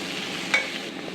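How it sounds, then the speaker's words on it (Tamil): Chopped tomatoes cook in a pan for a potato masala, giving a steady close sizzle with one brief stir or scrape partway through and no talking. "பொடி பொடியாக கட் பண்ண தக்காளி போட்டு நல்லா வதக்கி விடுங்க."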